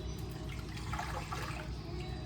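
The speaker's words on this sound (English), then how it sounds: "I'm gonna pour it into our slow cooker" A cup of water poured into a slow cooker holding pork for pulled pork, giving a short, steady splashing trickle at close range.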